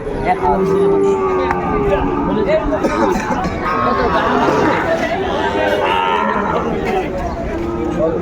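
Sahiwal bull calves and other cattle at a livestock market near Jashore low and moo loudly and repeatedly, close by over dense crowd chatter and people talking.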